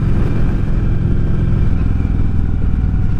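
A 2003 Victory Vegas motorcycle engine runs loud and close, a deep, steady, throbbing idle rumble with no speech over it.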